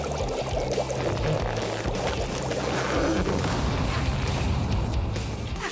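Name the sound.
cartoon water pouring to put out fire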